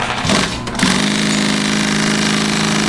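A Juki DNU-1541 industrial walking foot sewing machine speeds up and runs fast, a loud, steady mechanical hum with a rapid rhythmic clatter heard up close.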